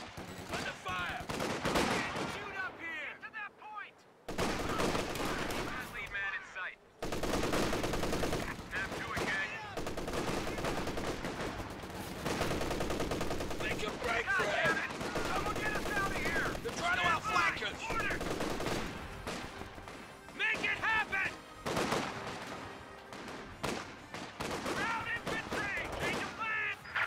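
Sustained battlefield gunfire in Company of Heroes 2, steady machine-gun rattles and rifle shots running nearly nonstop for almost half a minute, with brief pauses and voices faintly underneath.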